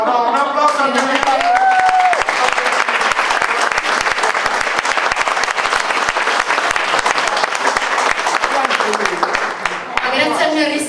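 Loud, sustained applause from an audience at a sparkling-wine event in Sicily, a thick roar of clapping that begins after a brief bit of talk and continues to the end, with voices returning at the close.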